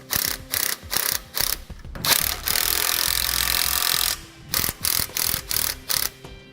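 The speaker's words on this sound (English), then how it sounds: "Then we'll take a 9/16 socket and begin tightening up our bolt." A ratchet with a 9/16 socket tightening a leaf spring or shock mount bolt on a 2012 vehicle during an air helper spring install, rapid clicking bursts, a longer grinding run, then more quick clicks, close and loud.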